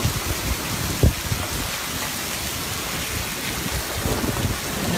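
Hail pours down on a rural village in Aydınşeyh, a steady dense hiss of ice pellets drumming on roofs and ground with a few sharper hits, close and continuous with no talk.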